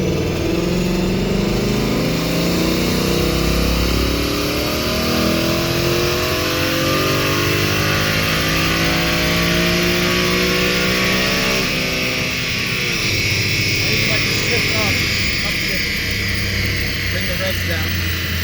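A stock 2018 Ford Mustang fitted with a cold air intake revs on a dyno, its engine note climbing steadily and loudly through a long pull before easing off, with a person talking over it.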